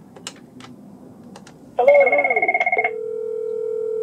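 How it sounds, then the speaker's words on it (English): Cisco IP desk phones on an Asterisk phone system ring together. A bright electronic warble begins abruptly and pulses rapidly for about a second, then gives way to a steady, sustained ringtone, with faint keypresses heard before it. "There's phones ringing everywhere."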